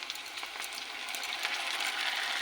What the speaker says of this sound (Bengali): পেঁয়াজ ক্যাপসিকামটা একটু ভেজে নিয়েছি